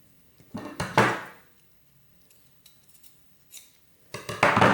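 Scissors cut fabric for a girl's dress: a few close, crisp snipping bursts separated by quiet pauses, with a final cluster of cuts at the end.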